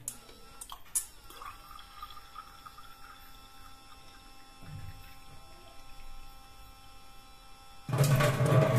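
A cheap sensor-activated automatic tap runs water in a sink, opening with a few drips and faint trickling over a steady mains hum, then bursting into a loud, strong gush of flowing water at the end.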